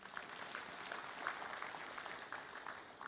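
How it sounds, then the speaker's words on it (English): Crowd applause at the Safaricom Engineering Summit conference as a new host is welcomed: a steady wash of many hands clapping, with no voices over it. "Help me welcome her as well with a round of applause"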